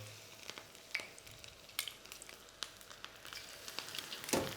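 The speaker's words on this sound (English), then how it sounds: "I'm going to start to layer my tempura veg into the oil" Battered tempura vegetables laid into very hot oil crackle and sizzle steadily, with scattered sharp pops throughout and a louder spatter near the end, fairly faint overall.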